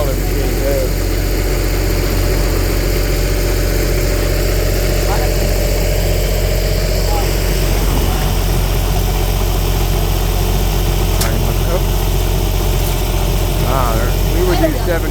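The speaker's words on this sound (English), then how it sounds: "Got a nice welding machine there." A welding machine's engine runs steadily and loudly at a bridge construction site, a constant droning hum with faint site clatter on top.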